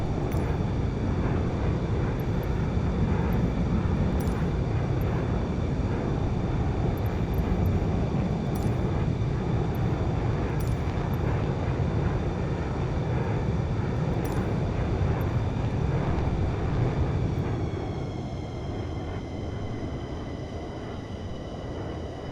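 Sustained loud roar of an F-15 fighter jet in flight, a steady broadband engine and airflow rumble heard from inside the cockpit, easing slightly near the end.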